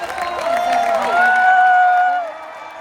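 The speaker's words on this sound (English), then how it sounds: "Give her a round of applause, everybody." A convention audience claps and cheers for a woman on stage, a broad crowd noise that swells, peaks, then tapers off, with a few whoops over the top.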